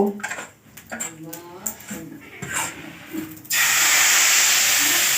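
Rice-flour batter for patishapta poured onto a hot, oiled griddle, starting with clattering and soft voices, then breaking into a loud, steady sizzling hiss that fills the last seconds.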